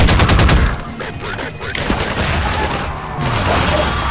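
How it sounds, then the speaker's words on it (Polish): Rapid bursts of gunfire ring out in the shooter game Half-Life 2, loud repeated cracks and rattling volleys that fade slightly in the middle before picking up again. "Co tu strzela?"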